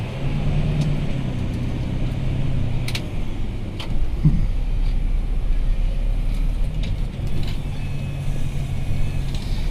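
A Valtra tractor engine labours steadily as it pulls a wide-set plough through heavy meadow soil, a continuous low drone that stays loud and close throughout with slight swells under load.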